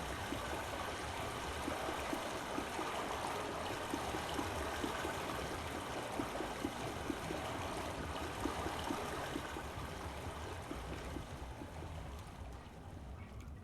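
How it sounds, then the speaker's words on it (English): Water flows steadily in the virtual world of the VR game Myst, a continuous rushing stream at moderate level that carries on alone with no talking. "because the water sounds are louder this way"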